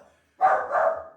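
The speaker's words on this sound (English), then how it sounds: "there goes the dog and the doorbell" A dog barks once or twice nearby in a home, a sharp loud burst that tails off into a short rough rumble, with no talking.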